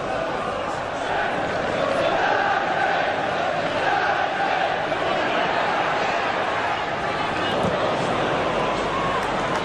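A large football crowd at a 1993 Premier League match between Manchester United and Norwich City at Old Trafford, roaring and murmuring steadily throughout, with a commentator's voice over the dense stadium noise.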